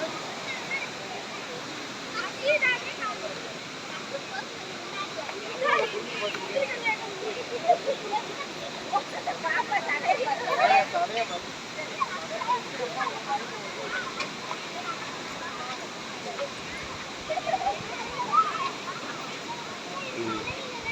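Constant rushing water roars throughout, a broad steady wash of a rain-swollen waterfall at Thirumoorthy hills, with occasional splashes and faint voices mixed in.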